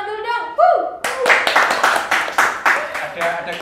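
An audience at a Uniska Kediri Faculty of Economics event breaks into clapping: a voice trails off in the first second, then brisk, close, fairly loud applause follows.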